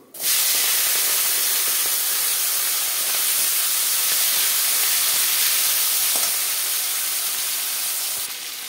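Vegetables drop into hot oil seasoned with turmeric and five-spice seeds, setting off a loud, sudden hiss that holds as a strong, even sizzle throughout before easing slightly at the end.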